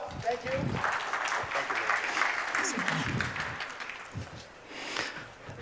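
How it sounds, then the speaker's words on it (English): Applause from a business-summit audience rolls on steadily for several seconds, moderately loud, while a speaker talks over it. "Please give Larry a round of applause."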